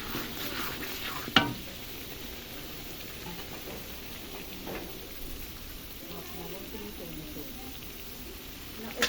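Masala spice paste sizzling and crackling steadily in hot oil in a home kitchen, a close continuous frying hiss with an occasional sharp clink of a utensil against the pan, a voice talking faintly at moments.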